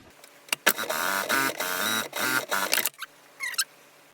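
Sewing machine stitching through four fabric layers of a cube hammock, a loud mechanical whirring run with brief stops and restarts, then a quieter short burst near the end.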